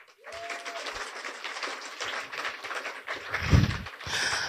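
Audience clapping at a boys' coming-of-age circumcision bootcamp graduation in Kenya, a steady crowd patter of hands across the clip, with a brief voice and a louder burst near the end.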